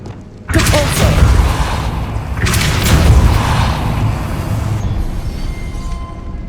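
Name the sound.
Depulso spell cast in Hogwarts Legacy video game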